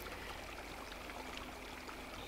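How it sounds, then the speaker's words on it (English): A relaxing waterfall pool by a beach in the video game Disney Dreamlight Valley trickles and splashes in a soft, steady wash of water, quiet and continuous with no other sounds. "I put the pool over here, the like nice relaxing waterfall pool"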